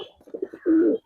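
Giribaz and coloring pigeons coo up close, a few soft, low pulsing notes building into one longer rolling coo, with no talking.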